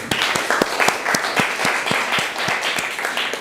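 Students in a classroom applaud a group after its presentation, a brief round of scattered claps with a few distinct louder hits standing out over the general patter.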